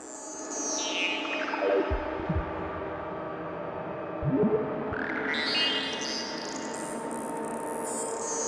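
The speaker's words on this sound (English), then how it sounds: "It's going to the reverb and sounds like that." A modular synth sent through an extreme reverb setting for acid techno gives long, sweeping tones that glide up and down, with washed-out swells and a couple of low thumps, all smeared in a dense wet tail.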